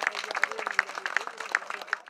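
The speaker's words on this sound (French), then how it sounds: "merci de l'applaudir encore plus fort s'il vous plaît" A crowd at a Breton cycling stage race applauds the race leader, a steady wash of clapping running throughout beneath an announcer's amplified voice.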